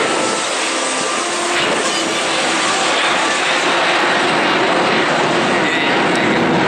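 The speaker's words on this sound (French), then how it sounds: "It's an aircraft you just guide across the sky." An Airbus A380 airliner flies overhead at an air display, its jet engines a loud, continuous broadband roar that holds steady throughout.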